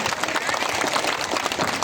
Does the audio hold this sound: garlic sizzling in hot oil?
no